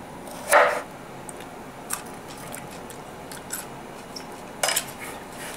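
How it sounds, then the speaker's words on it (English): A knife peels and thinly slices a small kohlrabi on a cutting board, with one sharp scraping stroke at the start, soft scattered cuts in the middle and another crisp slice near the end, close and quiet. "And we'll just peel it. We'll just slice it thinly."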